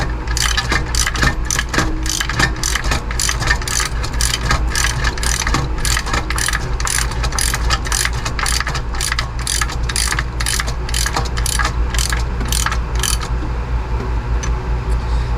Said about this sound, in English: I'm going to try to tighten this bolt up just a little bit.